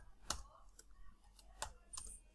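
Several separate clicks of keys being typed on a computer keyboard, spaced irregularly and fairly close, with faint background noise between strokes.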